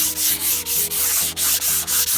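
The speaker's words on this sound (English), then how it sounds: "I just went over all of this with a 220 sandpaper just to get some of the bumps off." A cabinet is sanded by hand with 220 grit sandpaper, giving rapid back-and-forth rasping strokes in an even rhythm, close and fairly loud, about eight strokes with no voices.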